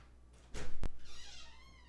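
A house cat lets out a loud meow, a short sharp noise, then a drawn-out wavering cry, all close by in a quiet room with no talking.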